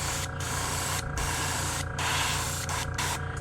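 Airbrush spraying pearl white base paint onto a blue shad fishing lure, a steady close hiss broken by several short pauses between bursts, with no talking.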